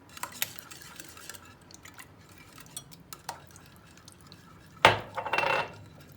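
Clinks and scrapes of a whisk or utensil against a bowl while cake batter with yogurt and oil is mixed for a caramel revani, scattered light taps followed by a louder burst of rapid clattering near the end.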